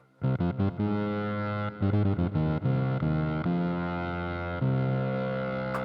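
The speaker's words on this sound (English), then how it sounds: "I've added a distortion onto effects 1, a delay, and then the reverb" A thick, distorted synth plays choppy chords and held notes, with delay and reverb smearing the tail; no voices.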